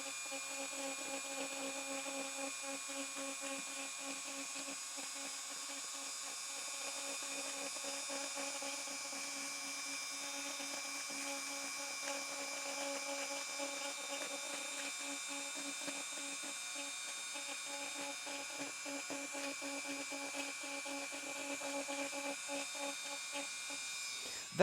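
Dremel rotary tool cutting through a cork sheet for a 3D printer heatbed, a faint steady high-pitched whine with buzzing overtones that holds for over twenty seconds, heard alone at low level.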